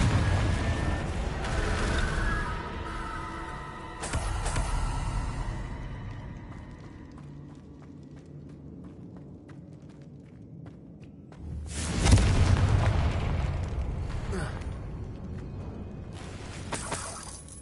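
Confringo fire spell blasts in Hogwarts Legacy, several loud bursts with a bright crackling burst near the start, another around four seconds and a big roaring blast near twelve seconds, over low game rumble.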